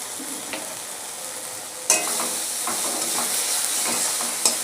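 Onion, ginger and garlic paste with turmeric and dried chilli frying in a pan for a soya chunk and potato curry, a steady sizzle broken by a few scraping stirs, with no talking.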